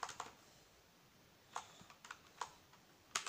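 Sparse, faint keystrokes on a Marvo KG922 keyboard during a typing test come as scattered clicks with pauses between them in a quiet room, and no one speaks.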